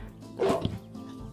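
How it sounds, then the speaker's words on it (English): A single short dog bark rings out from the vet area in the Animal Shelter video game, one brief moderately loud yap set against quiet background ambience. "Love how you can hear the barking from the vet."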